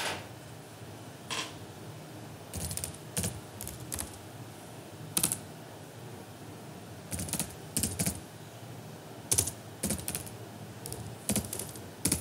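Typing on a computer keyboard while entering data into MS Excel 2007 cells, close and fairly quiet: scattered clusters of crisp key clicks separated by short pauses, no talking.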